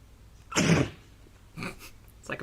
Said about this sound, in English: this is the sound of a wombat.